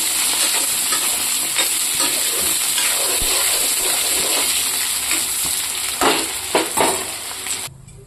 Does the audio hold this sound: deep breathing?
no